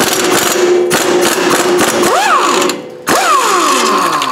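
An impact wrench hammers away at a rusted exhaust stud nut, a loud, continuous rattling burst that cuts out briefly and starts again, with nobody talking.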